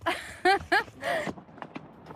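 Horse hooves clip-clop during a long horseback ride through remote Moroccan countryside, a few light, spaced clicks that follow a voice speaking near the start.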